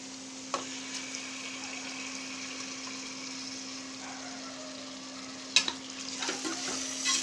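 Paneer cubes for paneer dum biryani fry in a pan with a steady, close sizzle, broken by a few sharp knocks and scrapes from stirring.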